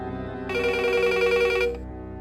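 A telephone rings with an electronic trilling tone, steady and close, sounding once for about a second over a low hum.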